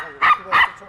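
A small dog gives two sharp barks outdoors on a walk, close and loud, with a faint trailing yip.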